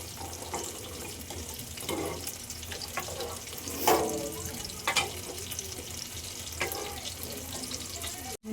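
Water splashes into a pot of bubbling, sizzling surmai fish curry, with a few soft pouring bursts over a quiet, steady simmer.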